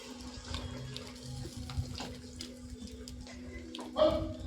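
A small bowl of water is poured into a fish curry of fried spices, a short splashy pour near the start over low background hum, with a brief clatter toward the end.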